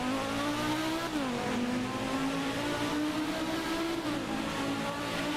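A Volvo car engine in a Roblox video game drones steadily as it accelerates, with a brief pitch dip as it shifts gear and then climbs again, loud and continuous with no talking.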